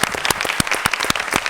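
A studio audience on a Spanish-language TV show claps, a short burst of close, loud applause with distinct individual hand claps rattling throughout.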